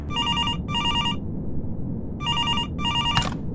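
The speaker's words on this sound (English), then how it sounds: "I was happy when the phone finally rang" A telephone bell rings in two paired double bursts, loud and close, in a quiet fast food restaurant, with a low background rumble and a brief sharp click near the end.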